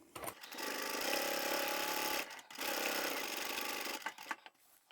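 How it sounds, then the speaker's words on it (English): A sewing machine stitches along the outside edge of a vinyl handbag strap, whirring in two steady runs of about two seconds each with a short pause between them, close and moderately loud. "I'm just going to sew on the outside edge"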